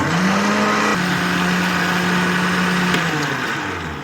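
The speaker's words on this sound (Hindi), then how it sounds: "ये हमारा अच्छे से ब्लेंड हो चुका है मिक्सचर" A kitchen blender mixing chicken mayo spread with garlic powder whirs loudly in a steady motor drone, dipping in pitch briefly before winding down at the end.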